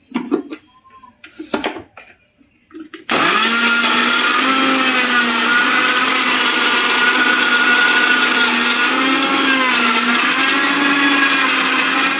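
A mixer grinder blends beetroot with salt and water for juice, starting abruptly after a few seconds of quiet room sounds and then running as a loud, steady whirring roar with a wavering pitch until the end.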